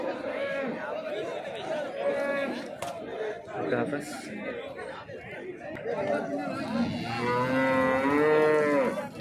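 Cows moo loudly and repeatedly at a busy cattle market in Chintamani, with long drawn-out calls rising over constant crowd chatter and nearby voices talking.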